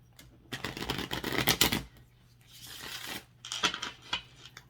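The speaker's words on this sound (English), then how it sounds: "So we'll do the 3 shuffles just for you" Tarot cards are shuffled in quick riffling bursts, close and crisp, with short gaps between three rounds of shuffling.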